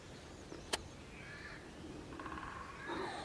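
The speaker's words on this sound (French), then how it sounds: "Corneille." A crow gives a single short caw in the distance outdoors in spring, with faint bird calls and quiet ambience around it.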